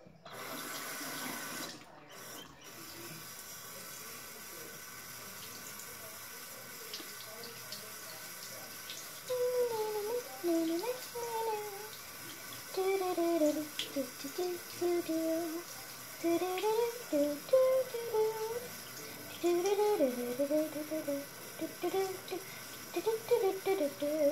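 Tap water runs steadily into a sink for washing a toy doll's hair, a continuous faucet stream with a voice talking over it for much of the time.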